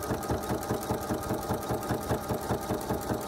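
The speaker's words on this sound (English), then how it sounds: "we're gonna sew all the way to the edge. And then I'm gonna do like two back stitches just to secure it" A sewing machine stitches binding onto a fabric edge, a close, fast and even rhythmic whirring of needle strokes running continuously with no talking.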